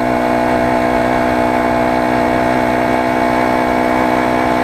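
Small four-stroke Honda GX35-type engine on a motorized bicycle runs steadily and loudly, a continuous droning hum with strong harmonics throughout, no voices.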